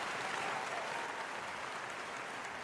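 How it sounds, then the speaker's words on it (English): Canned applause effect played during a live hangout, a faint, steady wash of many hands clapping with no breaks. "Give them a little clap."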